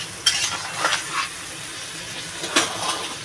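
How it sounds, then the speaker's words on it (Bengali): Masala with tomato sautéing for a crab curry, a steady frying sizzle broken by several scraping stirs of a spoon in the pan, close up with no talk. "এবার এই যে টমাটোরটাও দিয়ে দেবো, ভালো করে কষাবো।"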